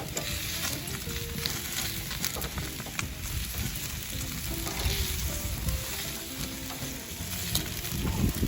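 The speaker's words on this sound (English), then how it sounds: "now it's time to flip these bad boys" N.Y. strip steak and sea scallops sizzle loudly and steadily in a hot pan just after being flipped. The dense frying hiss continues without a break and no one speaks.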